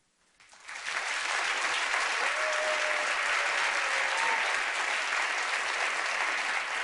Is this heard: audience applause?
yes